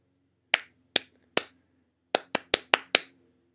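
A person claps out a rhythm during a guess-the-rhythm exercise: eight crisp, close hand claps, three evenly spaced, then a pause, then five quicker claps in a tighter group, with no talking.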